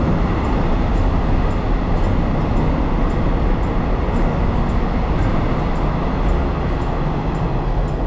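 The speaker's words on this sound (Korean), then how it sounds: "정말 저희가 탄 열차고요." A train arriving at Jeonju Station rumbles loudly and steadily, with a dense roar of wheels and a regular clacking rhythm from the rails.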